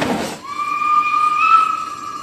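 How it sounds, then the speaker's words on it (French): A loud, steady steam locomotive whistle with a clear high pitch, held for about two seconds after a brief burst of hissing. "la locomotive a finalement pu pousser son sifflement de retour"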